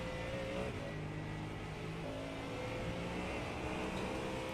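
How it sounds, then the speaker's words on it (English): Race car engine at a USRA round in Detroit, running steady and close with shifting pitch as it drops down to second gear under heavy braking, no talk. "You can hear him just really downshift and go down to second gear."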